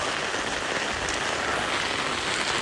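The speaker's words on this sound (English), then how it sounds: "Yes, it is pouring down rain, you guys." Heavy rain pours down steadily, a dense continuous hiss of drops drumming on surfaces with no break in intensity, loud and close throughout.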